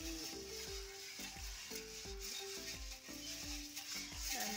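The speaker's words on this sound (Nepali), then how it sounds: "अब यसलाई हामी भुट्छौँ।" Steamed paddy rice being dry-roasted in a pan, heard close up as a steady rustling sizzle cut by regular scraping stir strokes about twice a second, with no voices.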